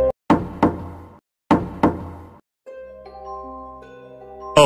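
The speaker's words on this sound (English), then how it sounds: "did someone knock the door?" Sharp knocking on a door, loud and close: two double knocks separated by a pause, followed by a ringing doorbell-like chime of sustained tones.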